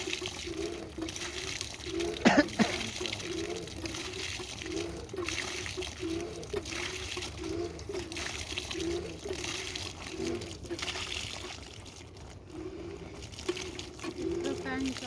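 Water from a deep boring pours into a channel about a foot deep, making a steady, continuous rushing wash that runs under people talking nearby.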